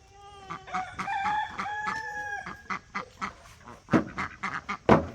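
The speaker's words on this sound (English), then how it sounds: "So this is my chicken run." Chickens clucking and a rooster crowing nearby, with ducks quacking in bursts throughout a busy poultry yard.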